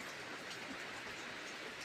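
Continuous rain falls steadily after a night-long downpour, making an even, unbroken hiss that stays at the same level throughout, with no voices.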